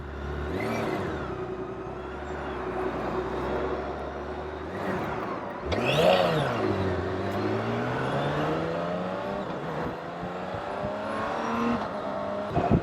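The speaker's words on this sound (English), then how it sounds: "This bike's actually a 6-cylinder motor." A small six-cylinder motorcycle accelerates on an Australian country road, its engine note rising and falling through gear changes with steady wind rush, close and continuous throughout.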